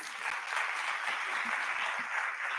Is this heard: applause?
yes